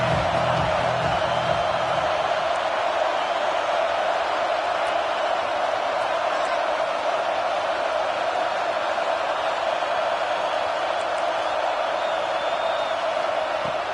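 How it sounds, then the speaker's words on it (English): Football stadium crowd at a Florida vs Auburn game cheering on third down, a loud, sustained roar that holds steady without a break and sits fairly close throughout. "3rd down and the crowd really getting into it."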